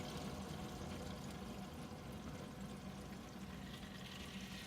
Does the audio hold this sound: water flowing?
yes